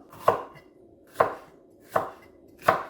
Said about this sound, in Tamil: இப்போ நாங்கள் வெங்காயம் அதில் கட் பண்ணுவோம்